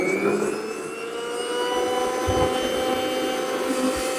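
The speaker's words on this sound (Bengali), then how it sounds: "এটা সাউন্ডটা দেখেন, মনে হয় বিমান চলতে আছে।" A 2000-watt commercial blender runs at high speed, a steady, loud, jet-like whine and roar that holds continuously with slight swells and no talking.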